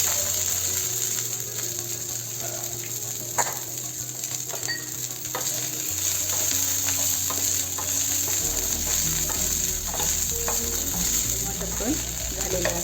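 Green peas frying in a pan, with a continuous close crackling sizzle and repeated rattling clicks and scrapes from stirring, heard alone with no talking.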